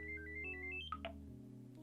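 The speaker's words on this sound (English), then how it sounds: "So here we can see the phone booting up." A Motorola Rokr E1 mobile phone plays its startup tone while booting, a short sequence of clean electronic melodic notes stepping up and down, ending in a couple of brighter chimes, fairly quiet and alone without talk.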